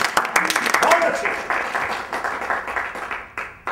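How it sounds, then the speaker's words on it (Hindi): Audience applause, a dense burst of clapping that thins out gradually, heard under overlapping talk. "इसमें तालियां बजाने वाली कौन सी बात है?"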